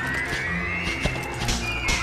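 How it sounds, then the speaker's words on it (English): A horse neighing in Dragon Quest VIII, a loud, close whinny with wavering tonal cries and a few hoof-like knocks, bucking as it is ridden. "my horse isn't accustomed to being ridden"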